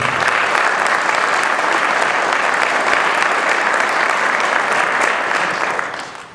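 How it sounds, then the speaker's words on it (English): A large audience at the Ottawa Township High School Hall of Fame induction ceremony gives the Foundation a loud, sustained round of applause that fades near the end. "Could we give them a round of applause, please?"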